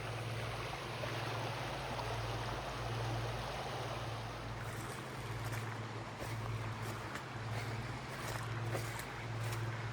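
A creek flows steadily past a cabin picnic area backed by sycamore trees, giving a soft, continuous wash of running water at moderate distance, with a low, steady hum underneath and no talking.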